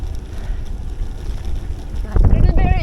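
Strong headwind buffeting a cyclist on an open road after leaving tree cover on a cold day, a steady roar of wind across the microphone that swells louder near the end, with faint breathing.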